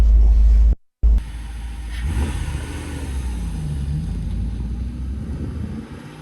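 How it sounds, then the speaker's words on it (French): A 1988 Morgan Plus 8 pulls away, its engine a deep, steady rumble close by after a brief cut, with no one talking. "Alors nous voici maintenant à bord de cette Morgane Plus 8. Premier tour de roue"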